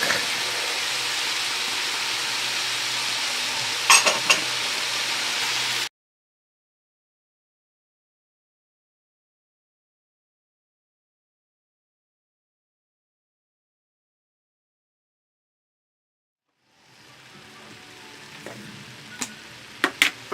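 Parsley and garlic tossed into a pan for spinach pie give off a loud, steady sizzle with a few sharp clinks. It cuts out abruptly, then the frying hiss returns near the end.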